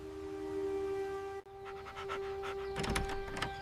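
A dog pants heavily and steadily over a constant electrical hum, with rhythmic breathing bursts growing louder and busier toward the end, close and alone without voices.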